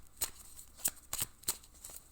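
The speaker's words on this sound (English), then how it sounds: "Give them a few really good shuffles." Tarot cards being shuffled in a few quick riffling bursts, soft and close, spaced at a loose irregular rhythm in a quiet room.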